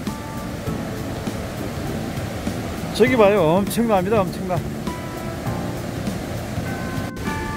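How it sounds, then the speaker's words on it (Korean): Water pours down a waterfall in the boulder-strewn Ssangyong valley gorge, a steady broadband rush that runs the whole time while someone talks excitedly over it midway. "폭포요, 폭포. 저기 물 내려오는 거 봐요."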